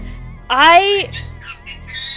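A pet bird lets out one loud, harsh, close squawk with a rising then falling tone, followed by softer chirpy calls.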